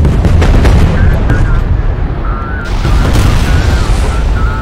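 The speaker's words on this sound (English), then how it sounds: "Pull back to a safe distance and initiate detonation." Detonating charges boom in Homeworld: Deserts of Kharak, a loud, sustained rumble of explosions mixed with gunfire-like crackle, rolling continuously and swelling again partway through, with voices talking over the blasts.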